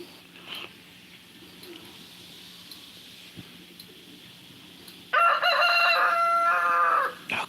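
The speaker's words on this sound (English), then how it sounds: "I hear one of the neighbors' chickens." A neighbor's rooster crows once in a loud, drawn-out call lasting about two seconds, preceded by quiet outdoor ambience and a few faint clucks.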